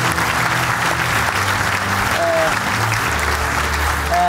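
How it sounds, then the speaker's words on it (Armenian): A studio audience on an Armenian sports entertainment show gives loud, sustained applause for the guests, a steady wall of clapping with faint voices and tones underneath. "Եկեք եւս մեկ անգամ ծափարենք Թադեին,"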